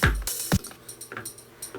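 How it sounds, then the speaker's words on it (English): A tambourine hit placed in one slot of a randomized ReDrum drum pattern in Reason, sounding as bright jingly shakes at irregular points alongside a few low drum thumps, with no voice. "we've got a tambourine on that slot"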